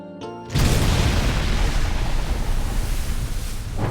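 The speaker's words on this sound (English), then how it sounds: "So after the song, this explosion is played" A cartoon explosion effect from a SpongeBob episode: a sudden loud boom after a short stuttering lead-in, then a dense, rumbling roar that holds steady for several seconds before easing off at the end.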